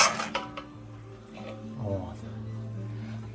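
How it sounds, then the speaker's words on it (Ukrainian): Cooked rice scooped out and shaken loose with a metal spoon, scraping and clinking against a pot under steady talk. "Рис ми отак от викладуємо, підтрушуємо"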